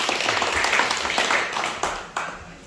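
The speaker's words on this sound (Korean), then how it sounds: "박수 한번" A small audience at a Korean grape-farming lecture claps together after a thank-you, a short burst of dense hand claps with a few sharp trailing claps as it thins out.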